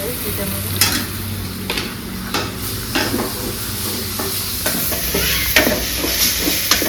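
Peas for Kolhapuri misal stirred in a hot pan, a steady close sizzle with repeated scraping strokes of the spoon throughout and no talking.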